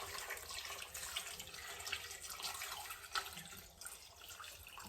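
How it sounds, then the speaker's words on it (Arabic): A liter of water poured into a juice mixture, a steady close splashing stream running throughout, no talking. "وغادي ندير اطرو ديال الماء"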